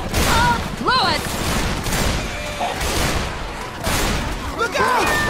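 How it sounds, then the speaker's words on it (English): Chaotic gunfire during a Left 4 Dead 2 firefight, irregular bursts and booms layered under excited shouting voices throughout. "Quit shooting me!"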